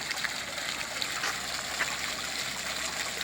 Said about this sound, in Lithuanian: Fontanėlis, šaltinėlis teka, toks juokingas.